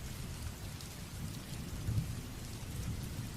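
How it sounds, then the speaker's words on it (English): Steady rain falls outside at night, a continuous dense hiss of drops on surfaces with low rumbling underneath, even and unbroken throughout with no voices. "It's 4 a.m. in the morning, as Jamie sits on the couch staring at the rain outside."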